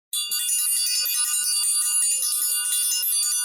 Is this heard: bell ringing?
yes